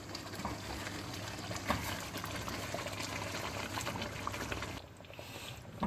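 Boiled water being added to a chicken curry gravy in a Pakistani chicken masala, a steady close splashing and bubbling liquid sound that runs continuously, then briefly eases near the end.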